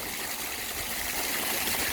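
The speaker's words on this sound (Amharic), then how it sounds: "ከየት ነው የሚመጣው? ውሃ ከውስጥ በቧንቧ እያመጡት።" Water running through an underground pipe outdoors, a steady broadband rushing flow that holds even and continuous throughout, close and fairly loud with no voices over it.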